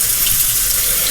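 A kitchen tap runs steadily while the water is left to warm up before washing dishes, a continuous close splashing hiss with no talk.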